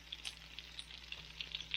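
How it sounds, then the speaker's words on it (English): A sirloin steak searing in a cast iron pan with butter, a faint, steady sizzle with small pops, under a low background hum. "we got a beautiful sear going on here."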